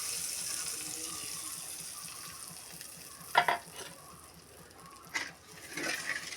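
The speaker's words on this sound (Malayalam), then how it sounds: "മൂത്ത ശേഷം അതിലേക്ക് വാളംപുളി പിഴിഞ്ഞൊഴിക്കാം" Squeezed tamarind water pours into a hot pan. A soft, low sizzle runs throughout, with two brief bursts of splashing and hissing as the liquid hits.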